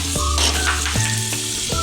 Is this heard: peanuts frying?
yes